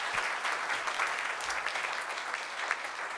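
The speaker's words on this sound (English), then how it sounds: "Let's give them another round of applause" Steady round of applause from a crowd at a city proclamation ceremony, many hands clapping evenly throughout at moderate loudness.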